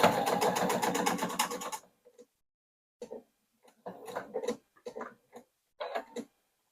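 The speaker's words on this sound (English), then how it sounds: "Pull the ruler out and sew that line. So I'm going to do that all the way around." A sewing machine runs steadily while stitching binding onto a fabric phone tote, then stops. Scattered clicks and light handling noises follow. No one speaks.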